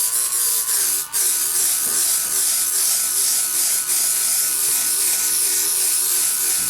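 A brass wire wheel grinds continuously against a model aircraft part, stripping paint residue with a loud, steady abrasive whir and a faint rhythmic wobble, close up and uninterrupted.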